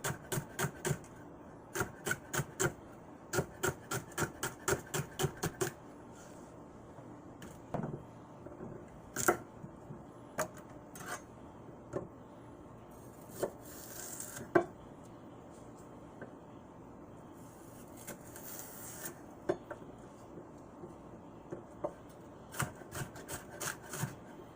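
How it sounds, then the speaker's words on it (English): Knife cutting celery for chicken soup, with crisp, rapid rhythmic chops on a board in quick bursts, broken up by pauses, scrapes and scattered single cuts, close and fairly quiet. "Cut the heel off. Split in half."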